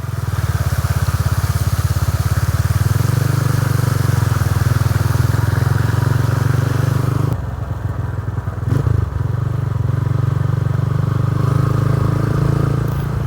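A motorcycle runs steadily through a flooded bypass road, its engine droning loudly and close with a brief dip partway through, while water washes around it.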